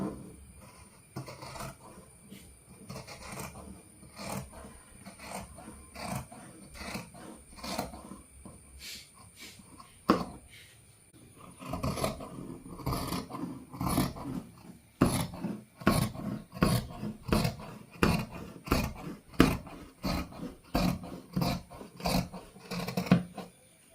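Scissors snip through fabric while a frock-style nightie is cut out, giving a long run of close, crisp clipping strokes that come faster and more regularly in the second half, with no talking.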